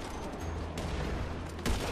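Rapid video-game gunfire crackles as a dense, continuous stream at moderate loudness, with one sharper, louder burst near the end.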